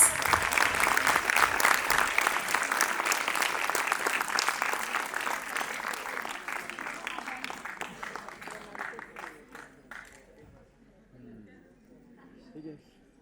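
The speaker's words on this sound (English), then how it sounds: "Let's all give a huge round of applause." Audience applause at a music academy's annual day, a strong round of clapping that gradually thins and fades out after about ten seconds, followed by quieter talk.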